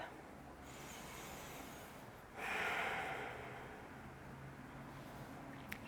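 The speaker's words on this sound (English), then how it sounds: "Cleansing breath" A cleansing breath taken during a yoga stretching practice: one long, breathy exhale that swells in the middle, heard close and alone against a quiet room hiss.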